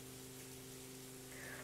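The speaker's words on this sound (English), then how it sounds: "as you see, officer, it's raining currently" Rain in a police roleplay game, a steady soft hiss of rainfall under a constant low engine hum, faint and unbroken.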